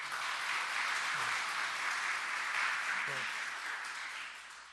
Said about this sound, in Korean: 그런 역할을 우리 하신 우리 회장님 장로님에게 다 같이 박수 한번 쳐주세요